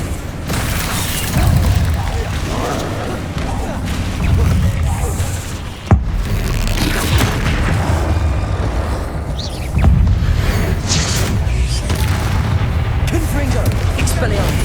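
Spell explosions from Bombarda and Confringo in the Hogwarts Legacy video game on PS5, loud booming blasts layered over continuous battle noise, with sharp bursts near six and ten seconds.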